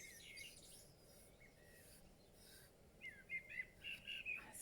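A wild songbird gives a few short, faint chirps and whistled notes toward the end, heard at a distance over a quiet outdoor background hiss.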